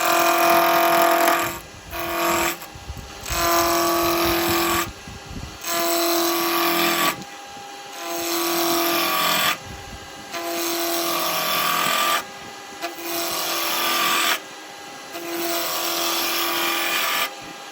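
A wood lathe turns a blank for a spinning top while a small roughing gouge roughs it down, giving repeated loud scraping bursts of about two seconds over a steady motor hum, with no talking.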